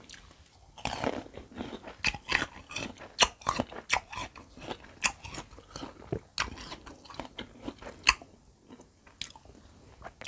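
Someone bites and chews sour marian plum dipped in jaew sauce, with crisp crunches and wet chewing up close in a steady, busy rhythm with no talk.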